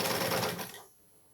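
A sewing machine runs a short burst of backstitching at the start of a seam on fabric, loud and close with a rapid rattle, then stops abruptly into quiet.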